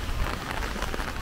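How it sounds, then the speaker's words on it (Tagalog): Heavy rain pouring down outdoors in Aberystwyth, UK, a dense, steady hiss of drops drumming on surfaces close by, loud and continuous with no voices. "talagang full force ang ulan dito"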